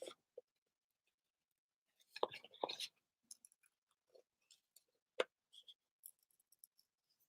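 Scissors snipping through paper in a crafting session, a few short crisp cuts with a denser burst of snipping near the middle, fairly quiet and close with long pauses between.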